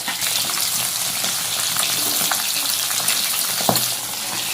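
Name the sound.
bitter gourd frying in a pan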